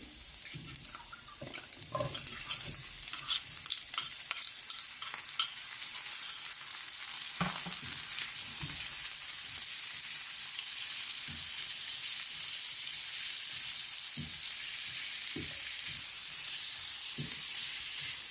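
Potatoes fry in oil in a pan for an Afghani omelet, producing a constant even hiss of sizzling with a few soft knocks and stirring clicks scattered throughout.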